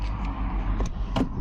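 Cars passing on a road near a scenic viewpoint, a low steady traffic rumble with a couple of brief swishes of vehicles going by.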